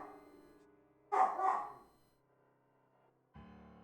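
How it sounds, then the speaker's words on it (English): A dog barking in the video game AI: The Somnium Files, heard as a loud, close pair of quick barks followed by quiet, with game music playing underneath. "Darn it, he's barking at nothing."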